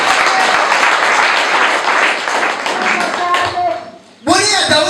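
A church congregation applauding loudly, many hands clapping in a dense continuous burst for about four seconds before fading, then a voice speaking over the room.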